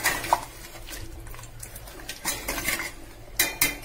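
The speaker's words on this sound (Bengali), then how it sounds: "দিয়ে আমি ভালোভাবে নেড়ে দেবো মশলাটা" A metal spoon scraping and clanking in a pot while garam masala and pepper are stirred into mutton curry with potato, irregular clinks and scrapes close by, with no talking.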